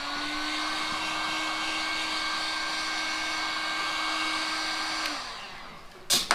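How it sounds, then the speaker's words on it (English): A heat gun blows steadily to dry a freshly rinsed metal fish key holder, giving a constant loud whooshing hum with a motor whine. It cuts off near the end, followed by a short clatter. "I just use the heat gun here. This is the heat gun"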